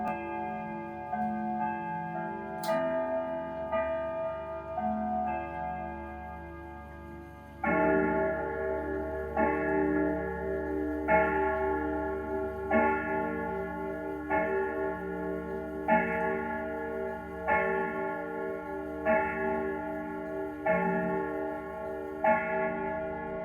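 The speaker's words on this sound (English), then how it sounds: "We're going to hear 10 o'clock as the last chime for the evening." A Schneider grandfather clock with carved dancing figurines strikes ten o'clock: a melodic chime tune followed by ten evenly spaced, ringing bell strokes, clear and close in a quiet room.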